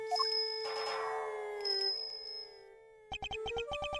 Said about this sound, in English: His appearance was always announced by the sound of bells.